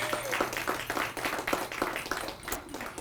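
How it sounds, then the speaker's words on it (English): Light, scattered clapping from an audience at a Soiree by the Bay gala, individual hand claps distinct and uneven over a steady low hum, moderately close and not loud. "We can clap for that."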